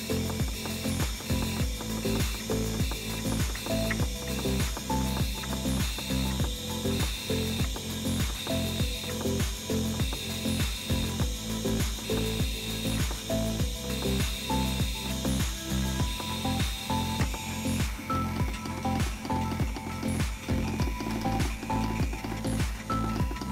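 A modified 28BYJ-48 stepper motor runs steadily, giving a quiet, rapid, even train of mechanical clicks and ticks like a small ratcheting gear, alone with no talk.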